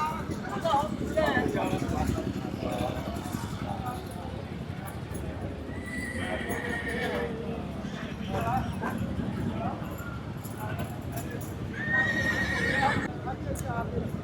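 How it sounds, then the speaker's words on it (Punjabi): A horse whinnies twice with shrill calls amid steady hoof clatter and rumble at a horse market, while people talk in the background. "ਆ ਘੋੜਾ ਆ ਗਿਆ"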